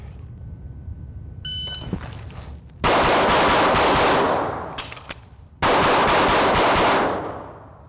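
Pistol fired in live drills with a Vortex Defender-CCW red dot: a short electronic timer beep, then two long strings of rapid, loud shots separated by a brief pause, close and without talking.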